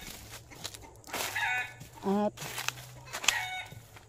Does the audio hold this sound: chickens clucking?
yes